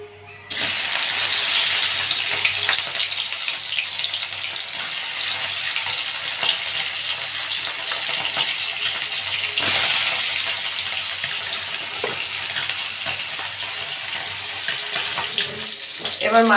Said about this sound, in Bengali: এবার মাছ ভাজা হয়ে গেছে।